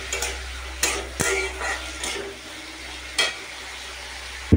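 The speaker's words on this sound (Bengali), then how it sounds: "উচ্ছেতে লঙ্কাটা দিয়ে দিই" Green chili dropped into bitter gourd frying in a pan, giving a steady soft sizzle with a few sharp stirring clinks and scrapes of a utensil, close by and fairly quiet, no talk.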